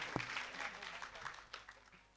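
Devotees clapping together at a Janma Jayanti Mahotsav religious gathering in Mumbai, a dense continuous burst of hand claps from a crowd, with some talk underneath.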